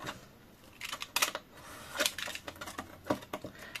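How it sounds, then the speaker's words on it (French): Utility knife cutting through a 3D-printed jig in a home DIY workshop, a few short scraping, rasping strokes close to the mic, in bursts separated by brief pauses. "Je le remets et je vais couper ça."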